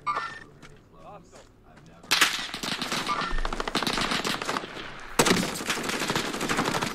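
Rapid automatic gunfire in Call of Duty Warzone, dense bursts of loud close shots that start abruptly after a quieter stretch, pause briefly, then resume with a heavy thump, continuing at full intensity.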